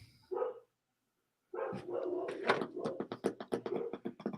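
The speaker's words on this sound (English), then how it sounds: "You hear my dog?" A pet dog barking nearby, one short bark followed after a pause by a rapid string of loud, sharp barks, with no talking over them.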